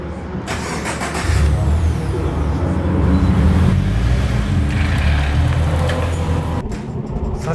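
A car on performance tires pulls away onto the Sodegaura Forest Raceway circuit, its engine a loud, steady drone rising slightly as it accelerates, heard close from inside.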